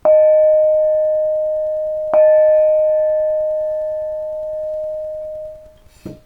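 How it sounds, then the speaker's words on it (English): A nickel silver Steve Huback bossed gong struck twice with a mallet, each hit a bright ringing tone with a long smooth decay, followed by a softer third touch near the end. "here's the nickel silver Steve Huback gong"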